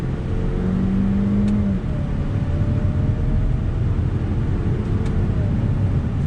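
A 2019 Hyundai Sonata Limited Turbo engine drones steadily under acceleration in manual paddle-shift mode, heard from inside the cabin as a loud continuous hum with faint road noise and a brief dip around a gear change.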